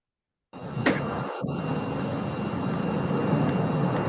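An airplane passes overhead, a steady broadband roar that starts abruptly and holds at an even, moderately loud level with no voices.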